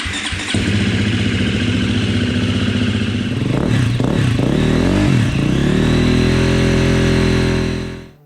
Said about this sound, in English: First thing to do is to let the bike warm up a little.